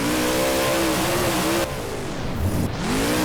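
Monster truck engine from BeamNG's Monster Jam freestyle, loud and steady revving with harmonic drone, dipping and surging through a gear-like shift midway.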